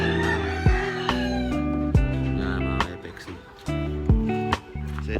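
Rooster crowing at Muntin Farm, its calls set against a dense, rhythmic layer of steady harmonic sound with recurring sharp hits throughout.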